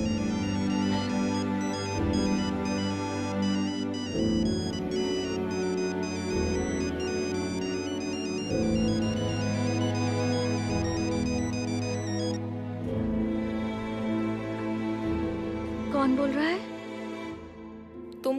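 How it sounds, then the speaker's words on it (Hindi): A melodic phone ringtone plays repeatedly in a looping electronic pattern, close and clear, with a brief voice near the end. "फिर से फोन बज रहा है"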